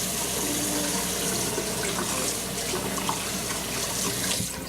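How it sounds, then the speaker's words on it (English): Warm tap water runs steadily from a faucet over a trumpet's piston valve bottom cap, a loud continuous splashing stream with small shifting spatters and no voices. "our main goal is to run water"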